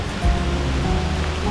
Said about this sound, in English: it's pouring down rain now